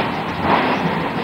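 A Mumbai local train runs near CST station and is heard from inside the ladies' compartment as a steady, close rumble of wheels on the rails with no talking.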